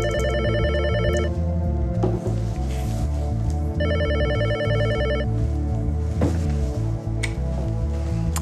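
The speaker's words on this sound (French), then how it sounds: "Elle appelle le lycée et se procure le numéro de Jean" A telephone rings in repeated electronic trilling bursts over a loud, sustained musical score, each ring lasting about a second with gaps between.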